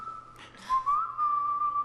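A person whistles a sustained clear tune, one held note, a brief break, then a long sliding, wavering note, close and fairly loud with a soft rustle in between.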